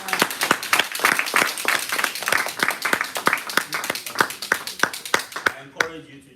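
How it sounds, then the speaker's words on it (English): An audience claps for a speaker at a Toastmasters session, steady applause with sharp individual claps in an uneven rhythm, under some talk, then it dies away near the end. "She deserves a resounding applause."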